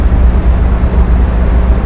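A large ferry's engine on a crossing from Sweden to Poland: loud, low rumbling drone with a steady throb, close by and continuous, like heavy ship machinery running.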